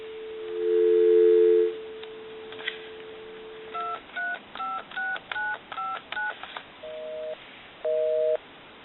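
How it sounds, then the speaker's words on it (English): On a novelty duck-shaped telephone, a steady dial tone hums for a few seconds, then a rapid run of DTMF keypad beeps follows in short evenly spaced bursts, with a couple of longer tones at the end, clear and close with no talk. "We'll give you some dial tone."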